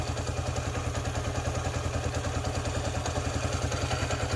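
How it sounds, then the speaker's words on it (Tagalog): Motorcycle engine ticking over steadily after a timing gear repair, a close, even, rapid idle rhythm that keeps going without a break and with no talking over it. "So ito na yung andar ng makina niya ngayon"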